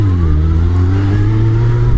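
Steady mid-pitched car engine hum with smooth rising harmonics, loud and close, as a vehicle drives along a wintry road for two seconds, no voices.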